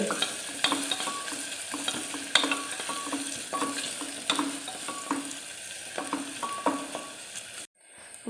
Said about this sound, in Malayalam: ഇനി നമുക്ക് നല്ലപോലെ ഒന്ന് ഇളക്കി ഒന്ന് ചെറുതായിട്ടൊന്ന് മൂപ്പിച്ചെടുക്കാതെ ഒരു ഗോൾഡൻ കളറാകുന്നിടം വരെ